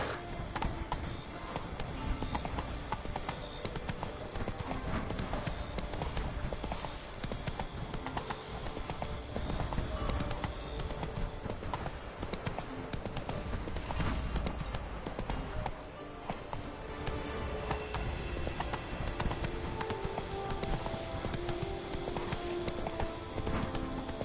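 Roach, the horse in The Witcher 3: Blood and Wine, trotting with a steady, continuous clip-clop of hooves amid dense game ambience and music.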